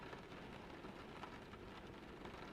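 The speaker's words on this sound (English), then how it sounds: "The only sound, the rain falling from above" Steady rain falling from above during a quiet drive through misty Ireland, a soft, continuous wash of patter that stays even and low throughout, with no voices.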